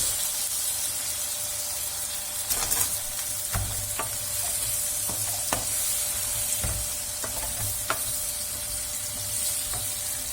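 Leeks and carrots sizzle and fry steadily in a pot, with occasional stirring scrapes and clicks against the metal.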